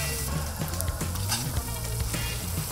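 Sambal kacau ingredients, including spices and sliced fern and cassava leaves, sizzle and fry in a wok, with a steady crackling hiss and occasional stirring scrapes, close and alone.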